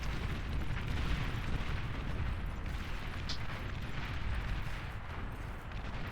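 Artillery in the strategy game Beyond All Reason booms and rumbles continuously in a dense low barrage, with overlapping distant blasts and no clear breaks.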